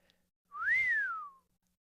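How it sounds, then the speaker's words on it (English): A single person's whistle, one smooth rising-then-falling note lasting about a second, clear and close in an otherwise quiet space. "Frank whistled."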